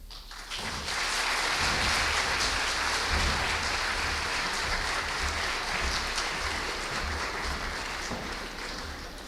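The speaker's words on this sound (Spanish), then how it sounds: "Con un fuerte aplauso, despedimos a nuestras autoridades académicas." Sustained crowd applause farewells academic authorities at a judicial dialogue event in Jalisco, a dense crackling wash that swells in quickly and continues evenly without pause.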